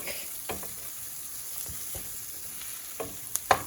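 Onions, turmeric, cumin and chili flakes cook for dahl in a pan, giving a soft, quiet sizzle with a few light stirring clinks and taps near the end.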